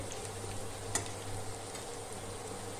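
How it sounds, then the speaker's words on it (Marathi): Cashews roasting in oil for a sprouted moth bean khichdi make a soft, faint, continuous sizzle with one brief sharp tap partway, heard alone without voices. "आपण त्याला काजूला जरा परतून तेलात पण परतल्यासारखं होतं"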